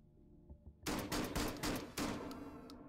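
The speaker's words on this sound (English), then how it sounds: "I guess it's a shotgun." Shotgun fire in the video game Hotdogs Horseshoes and Hand Grenades 2, a loud sudden blast followed by several rapid crackling reports and a second strong shot, all close and alone after a quiet start.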